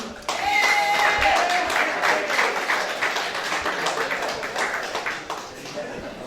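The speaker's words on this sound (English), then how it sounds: "Big round of applause for him" Audience clapping for welterweight champion Ben Stirk at a boxing press conference, brisk scattered claps from a modest crowd with voices and cheers mixed in.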